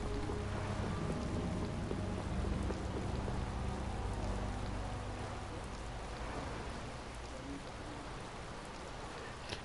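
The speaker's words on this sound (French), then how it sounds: "tout le monde a envie d'aller se promener sous la pluie" Steady rain falls in the video game Tales of Vesperia, a dense even hiss with faint low rumbles, while a voice speaks quietly beneath it.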